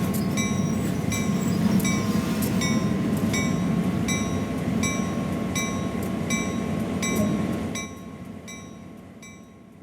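A GP38-2 diesel locomotive in Train Sim World 2 on Sand Patch Grade brakes to a stop, a steady rolling rumble with repeated rhythmic clicking of wheels over rail joints that slows, then drops to a quiet idle near the end.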